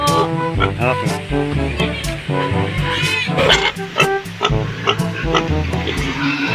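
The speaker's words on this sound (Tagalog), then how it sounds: "Ito na yung baboy namin ngayon." A large, hungry domestic pig kept as a backyard animal grunts and squeals close by in repeated bursts, with people talking over it.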